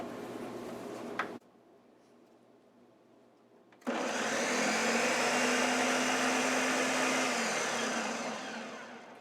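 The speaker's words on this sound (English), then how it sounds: "Just want to give it a quick blend." Velveeta cheese nacho sauce whirring in a blender after a quiet pause, a steady loud motor drone running for several seconds before tapering off at the end.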